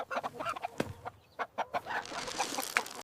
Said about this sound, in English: The animals scatter corn, and the chickens cluck happily.